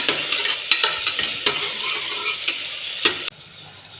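Fresh curry leaves and chopped small onions crackle and sizzle in hot oil in a pan, a steady bright frying hiss broken by sharp spatters and the scrape of a stirring spoon.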